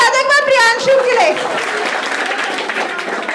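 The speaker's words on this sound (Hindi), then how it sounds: "ताली बजा दो एक बार प्रियांशु के लिए" An audience claps for a young singer called up to perform, a burst of applause following a shouting voice at the start, continuing as a dense patter.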